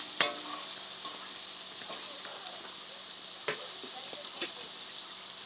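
Fish with spices fries in a pan with a steady low hiss, punctuated by a sharp spoon knock at the start and a few scraping stirs against the metal.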